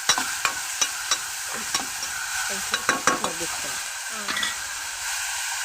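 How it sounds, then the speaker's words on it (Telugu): A spoon stirs spices and turmeric into a farm chicken curry in a hot pan, giving a run of sharp scraping clicks over a constant frying sizzle, close and fairly loud. "ఇవన్నీ వేసుకుని ఒకసారి బాగా కలుపుకోవాలి"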